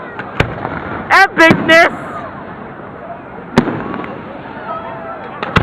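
Fourth of July fireworks explode in a quick cluster of sharp, loud bangs, followed by a few scattered single pops, while an excited voice exclaims over the noise.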